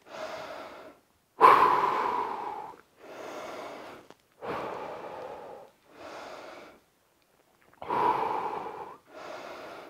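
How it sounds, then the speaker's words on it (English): Heavy, rhythmic breathing while recovering after a set of an at-home fat-loss workout: about seven loud, close, breathy inhales and exhales separated by short pauses, with no talking. "Let's breathe a little bit,"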